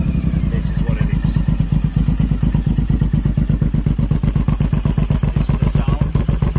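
A Suzuki Boulevard M109R motorcycle, 2014 Limited Edition, idles close by with a deep, rapid, steady pulsing thump, loud and even, with a faint mechanical clatter running through it.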